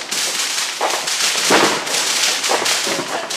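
Fourth of July fireworks and firecrackers popping from all directions, a dense, continuous barrage of crackling bursts with louder booms standing out every second or so, close and loud throughout.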